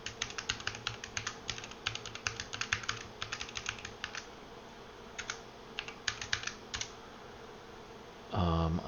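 Rapid keystrokes on a computer keyboard as a password is typed, bursts of close, crisp clicks with short pauses, followed by a brief louder low thump at the end.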